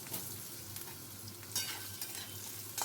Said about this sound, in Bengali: আলুগুলোকে হালকা করে ভেজে তুলে নেব